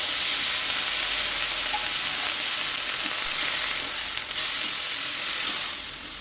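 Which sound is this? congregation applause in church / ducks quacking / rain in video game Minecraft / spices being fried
spices being fried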